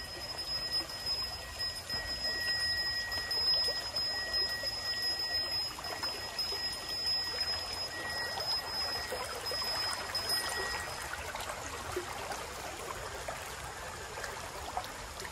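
River water flows steadily while someone crosses it near a rice field in Bali, a constant soft rushing and trickling with a faint high tone running through.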